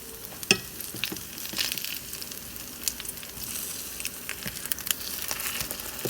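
Torrijas fry in a pan with a steady, crackling sizzle and scattered sharp pops, close and moderately quiet, with no talking.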